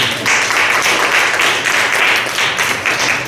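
A church congregation claps hands in praise, a dense, steady wash of many hands that stays loud and even for the whole stretch with no voices standing out.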